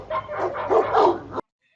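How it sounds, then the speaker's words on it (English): Dogs bark close and loud, picked up by the AirPods Pro 2 microphone: a burst of several overlapping yaps over about a second and a half that stops abruptly into silence. "This is what it sounds like with barking dogs in the background."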